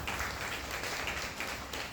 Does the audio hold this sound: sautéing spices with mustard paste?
no